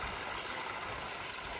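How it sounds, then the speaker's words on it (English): A small creekside waterfall on a backpacking trail pours in a constant broadband rush, close and steady, with no voices. "There's a itty bitty waterfall"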